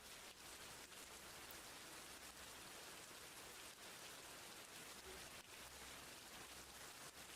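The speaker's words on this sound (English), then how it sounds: "it's rain on a cabin." Steady rain falls on a cabin, a dense continuous patter with no break and no voices.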